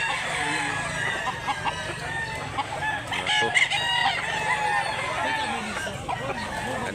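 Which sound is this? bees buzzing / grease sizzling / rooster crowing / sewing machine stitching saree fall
rooster crowing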